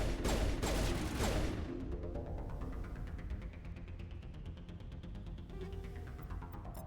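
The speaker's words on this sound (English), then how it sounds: "Who's shooting? Geth." Gunfire in the Mass Effect shooter as Geth attack, with a loud burst of rapid shots at first that fades into sustained, rumbling combat noise and scattered distant shots.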